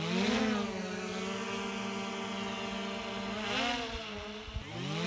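A DJI Mini 3 Pro drone hums steadily as its motors spin up and fly, a close, high whirring buzz whose pitch rises and shifts as the drone lifts.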